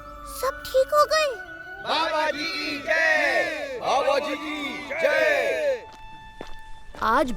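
A large crowd of cartoon devotees clamours with overlapping shouts and cries, loud and close, with scattered jingling and a few footsteps between bursts.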